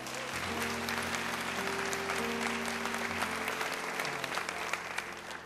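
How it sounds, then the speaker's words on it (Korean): Audience at a church-hosted gospel concert claps steadily throughout, a full, continuous round of applause with a sustained musical tone humming underneath. "우리 큰 박수로"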